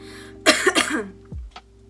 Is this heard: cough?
yes